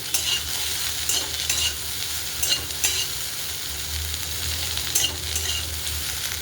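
Okra frying in oil in a pan as it is stirred, with a steady sizzle and several soft scraping stirs spread through, close and moderately loud.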